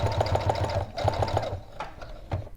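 Sewing machine stitching along the edge of a pin cushion, a rapid mechanical chatter that runs in bursts, pauses briefly, then resumes with a few clicks.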